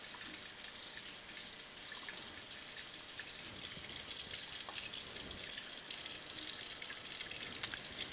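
Water runs steadily from a tap to rinse copper off the end of a glass stirring rod in a chemistry lab, a continuous close hiss with faint drips and no talking.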